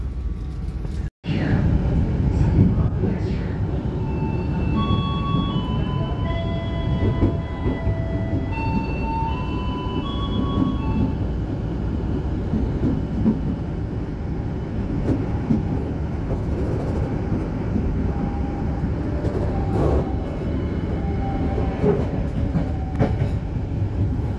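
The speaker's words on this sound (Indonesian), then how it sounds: "ini kereta api Dharma Wangsa ini pakai ekonomi new generation modifikasi bekas saya dari kereta api Jayabaya" A Dharmawangsa economy new-generation passenger train, converted from a former Jayabaya carriage, rumbles loudly and continuously along the rails, with steady rolling noise, occasional clicks and faint tonal whines heard from inside the coach.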